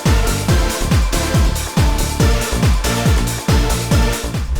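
An old school 90s-style rave dance track, with loud, driving kick drums pounding in a steady four-on-the-floor rhythm under raw chord stabs and bright hats, continuous and up front.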